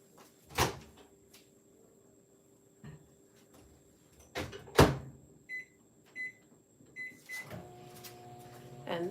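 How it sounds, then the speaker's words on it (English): A microwave oven melting candy melts in a home kitchen: sharp thumps of the door opening and closing, a steady low hum while it runs, and a series of short, high beeps near the end. "this one definitely needs some more time in the microwave"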